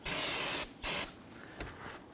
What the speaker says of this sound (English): I'm simply going to take a spray solvent and just kind of clean up around here